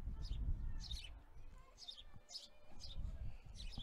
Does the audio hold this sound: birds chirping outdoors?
yes